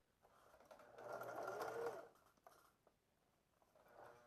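A sewing machine runs a reinforcement seam over elastic on shorts, one quiet whirring burst of about a second followed by a softer, shorter run.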